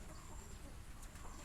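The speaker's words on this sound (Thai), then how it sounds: "ไก่สี่ตัวก็ตีกันเอง" Four chickens clucking and squabbling among themselves outdoors, brief agitated clucks heard at a distance amid steady background noise.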